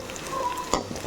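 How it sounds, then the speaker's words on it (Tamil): Onion, green chili and fenugreek fry in sesame oil in a pan, giving a soft close sizzle with a few brief stirring clinks. "வெந்தயம் வெங்காயம் போட்டு நான் தாளிக்கிறேன்"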